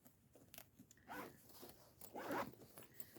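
The zipper on the large back pocket of a bag of medical supplies is pulled open in a few quick, close, raspy strokes, with no talking.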